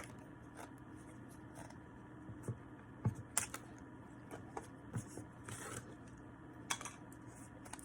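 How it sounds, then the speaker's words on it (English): Flexible Dollar Tree curling rods cut down with scissors or cutters for a Valentine's gnome craft. A quiet series of sharp snips and clicks comes at irregular intervals, close by, over a faint room background. "I'm just going to go ahead and cut mine down a bit."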